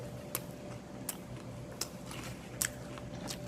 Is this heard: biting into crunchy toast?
yes